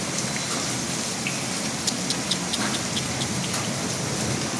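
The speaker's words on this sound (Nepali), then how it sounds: "असिना भुरी बतास असिना यस्तो असिना छ नि हेर्नु नि" Hailstorm with wind: dense, continuous pelting of hailstones on surfaces, with sharp scattered impacts standing out against a steady roar, and no voices.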